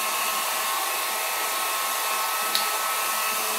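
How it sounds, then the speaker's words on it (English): A heat gun blows steadily and loudly while drying fresh craft paint on small wooden blocks, a constant airy roar with no pauses. "So I'm just going to speed our process up a little bit with my heat gun."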